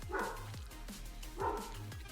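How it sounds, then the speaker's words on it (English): A dog barks in the background during a livestream, two faint, evenly spaced woof bursts heard from a distance. "If you can hear the dog in the background."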